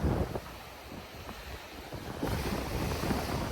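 Sea waves wash onto the shore under strong wind, with gusts buffeting the microphone and the surf swelling louder midway through; no talking.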